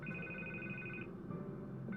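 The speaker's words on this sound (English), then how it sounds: "I can't get the phone to stop ringing." A telephone rings in Batman: The Telltale Series, a faint electronic trill that holds for about a second, pauses, then starts again under a soft musical background.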